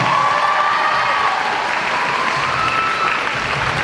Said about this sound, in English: Please give our ASB officers this year a huge round of applause.